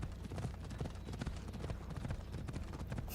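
A horse's hooves clip-clop at a steady trotting rhythm in the video game Assassin's Creed Odyssey, continuous and fairly quiet, with faint talk in the background.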